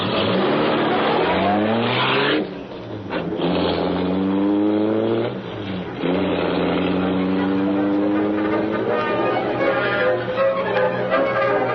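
A car engine roars to life and the car speeds away, loud revving with pitch climbing through several gear changes and brief drops between them, with no voices.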